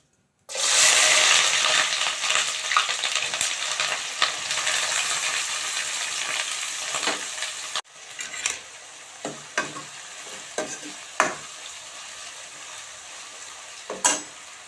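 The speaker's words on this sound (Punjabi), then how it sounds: "ਤੇਲ ਗਰਮ ਹੋ ਗਿਆ ਇਹ 'ਚ ਮੈਂ ਪਾ ਦਿੰਨੀ ਹੈ ਕੱਟਿਆ ਪਿਆਜ਼" Chopped onion drops into hot oil in a small wok and bursts into a loud, dense sizzle that fades to a softer crackle, broken by spoon scrapes and knocks as it is stirred.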